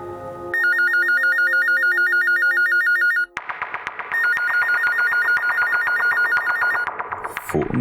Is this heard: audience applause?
no